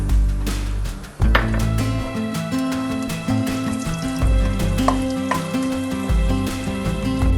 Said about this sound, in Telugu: ఆయిల్ వేడయ్యాక పోపు గింజలన్నీ వేసేసుకుంటున్నా.